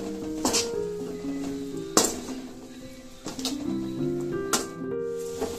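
A spoon clanks and scrapes against a pan while masala is stirred into a banana stem stir-fry, with sharp metallic knocks at irregular intervals over faint background noise.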